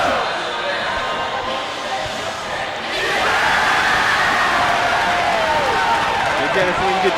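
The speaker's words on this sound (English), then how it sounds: "there you see the Comets cheering section" The Comets cheering section at a girls' playoff basketball game roars in a sustained, loud crowd cheer that swells partway through, with an announcer talking over it.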